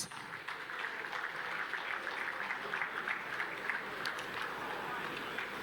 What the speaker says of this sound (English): Can we welcome him with a round of applause,